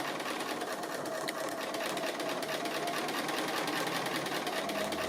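Sewing machine stitching around the eye of an appliqué dog, a steady fast rhythmic whir and clatter running continuously, close and even.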